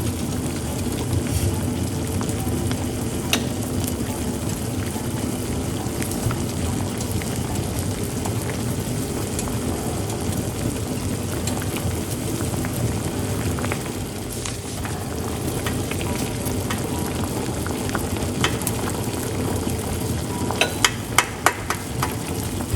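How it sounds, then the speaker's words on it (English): Liquid boiling in a pot on the stove, a dense, continuous bubbling and rumbling wash close by, steady from start to finish with a few sharp clicks near the end. "So we just want to make it boil for a bit"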